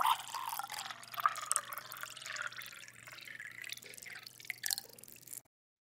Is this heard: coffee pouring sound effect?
yes